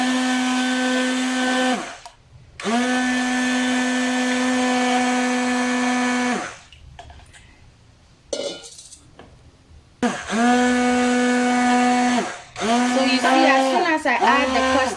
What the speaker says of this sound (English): this is my stick blender, and then I'm going to add my caustic solution to the oil mix